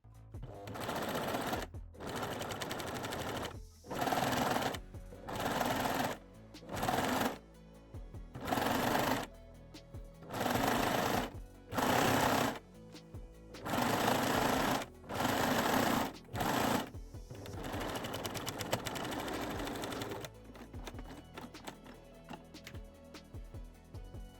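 A cover stitch sewing machine stitches elastic onto a bralette in a series of loud, close bursts of rapid mechanical chatter separated by short pauses, followed by quieter running toward the end.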